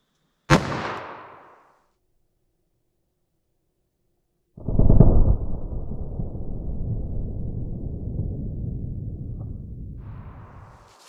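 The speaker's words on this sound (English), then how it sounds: "let's see how our 357 Magnum does on this gel block here" .357 Magnum Winchester Silvertip round fired into a ballistics gel block, a single sharp, loud crack with a brief decaying tail, followed by silence and then a long low rumbling wash of noise that fades slowly.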